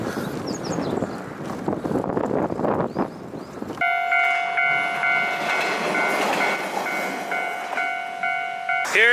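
A train rumbles and clatters past, then steady tonal squeals and a whistle-like hum ring out as it pulls into a station in Japan.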